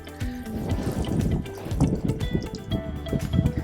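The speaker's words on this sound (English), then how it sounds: "So simply twist open, and then the water drains away." Wastewater drains from the open holding tank valve under a Swift Escape motorhome, a continuous close splashing and gurgling flow with irregular drips and spatters.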